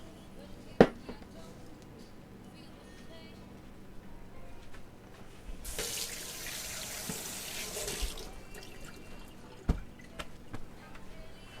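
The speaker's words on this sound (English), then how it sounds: "I just was rinsing the wings" Chicken wings rinsed under a kitchen sink faucet: a steady rush of running water lasts about two seconds in the middle, framed by a few sharp knocks and clacks in an otherwise quiet room.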